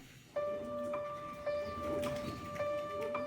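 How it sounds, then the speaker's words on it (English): A pair of grey and white pigeons cooing softly, several gentle repeated coos close by over faint background noise. "The parents, a handsome pair of grey and white pigeons, cooed softly."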